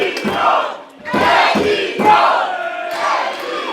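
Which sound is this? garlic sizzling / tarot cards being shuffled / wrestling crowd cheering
wrestling crowd cheering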